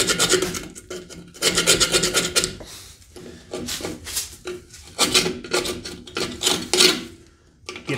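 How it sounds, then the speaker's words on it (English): A screwdriver or carbide metal scraper rasps repeatedly across a Toyota Tundra rear brake backing plate, giving close, rhythmic scraping strokes in uneven bursts. "Then I can just hit these with a screwdriver, or I got a carbide metal scraper."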